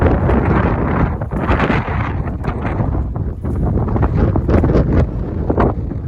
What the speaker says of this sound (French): Et regardez le vent qu'on se tape aujourd'hui.